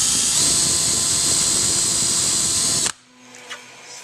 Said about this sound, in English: And then we're going to drill all the way in on this.